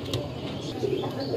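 Red-eyed pigeons kept for sale in Lahore giving soft, brief coos close by, with background noise and a voice nearby.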